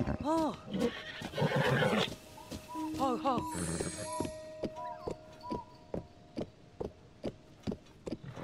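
A horse in Legend of Zelda: Tears of the Kingdom neighs in several loud whinnies, followed by a run of regular clip-clop hoof taps as the animal moves, with game music tones underneath.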